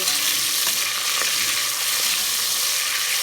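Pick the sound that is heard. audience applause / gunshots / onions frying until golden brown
onions frying until golden brown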